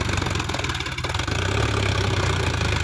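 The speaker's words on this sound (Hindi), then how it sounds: "अब की बार थोड़ा पीछे रुक गया है ट्रैक्टर, आगे बड़ा मुश्किल निकलेगा।" A Sonalika DI tractor engine running while stuck, a loud, steady diesel chug with a rapid rhythmic pulse that grows slightly heavier partway through.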